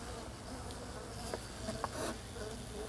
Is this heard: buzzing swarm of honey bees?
yes